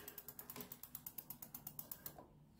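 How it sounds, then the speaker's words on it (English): An e-bike wheel spinning with a freshly installed Xtech Zoom hydraulic brake gives a fast, even ticking, about a dozen clicks slowing slightly as it is braked, faint and close without talk. "I'm gonna hit the brake."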